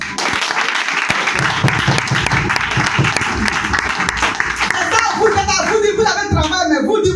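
A church congregation clapping and cheering to acclaim Jesus, sustained loud applause filling the room with voices and shouts mixed in, then rhythmic clapping near the end.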